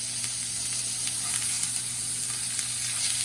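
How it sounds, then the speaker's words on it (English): Spiced lamb burgers sizzle steadily in a hot pan just after being flipped, a continuous close frying hiss with faint crackle and no voices. "now we're gonna flip the burgers"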